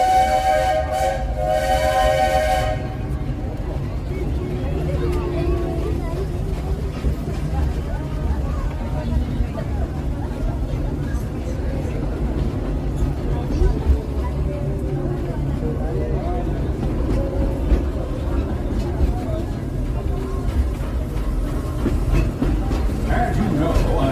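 The Walt Disney World Railroad train at Magic Kingdom rumbles steadily along the tracks with a continuous low roar, after a brief whistle-like tone at the start, and voices mixed in.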